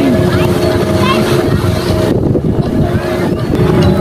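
Strong wind buffets the microphone at an open kite-flying field in Ho Chi Minh City's District 12 on an afternoon, a loud continuous rush with gusty swells, while a voice talks over it.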